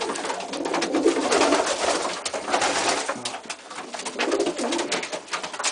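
Racing pigeons coo softly amid a noisy, rustling loft ambience, with low throaty calls repeating through the din.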